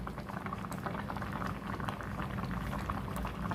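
Raw mango sugar syrup simmers over a low flame in a steel pot, giving a continuous soft bubbling and popping with no voices.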